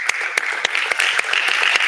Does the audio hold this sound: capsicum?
no